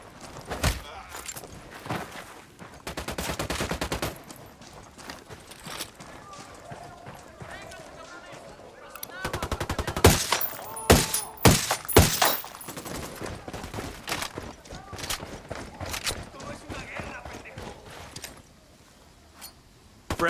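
Close, loud bursts of automatic gunfire and single shots ring out during a firefight in the video game Ghost Recon Wildlands. Heavy volleys repeat throughout, mixed with footsteps and squad members talking over the shooting.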